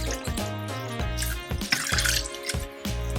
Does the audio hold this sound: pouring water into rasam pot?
yes